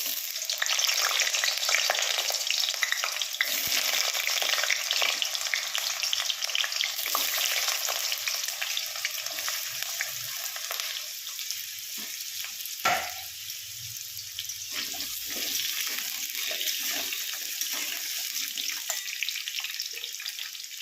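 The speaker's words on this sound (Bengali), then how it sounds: "এবার আমি কুমড়োটা আর আলুটা ভালো করে ভেজে তুলে রাখবো" Pumpkin and potato pieces fry in mustard oil in a hot kadai for khichuri, a loud continuous sizzle and crackle close by that eases slightly partway through, with no talking.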